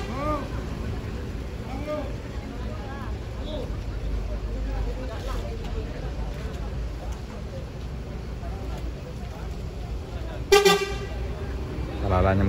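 A Palala bus departs in drizzly weather at a bus stop, its engine rumbling amid road traffic, with a sharp horn toot near the end and people talking.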